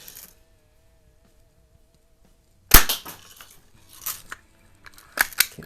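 A 1914–20 Heilprin Columbian Model E 1000 BB repeater fires at cans outdoors, with one sharp loud crack followed by a few scattered duller snaps and impacts after a long quiet stretch.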